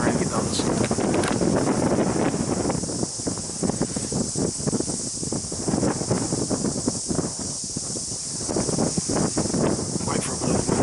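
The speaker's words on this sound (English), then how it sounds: "Wait for a bit of wind, die down a little bit." Wind sweeps across an open hillside during a long-range goat hunt, a continuous rushing roar that buffets the microphone and swells and eases in gusts throughout.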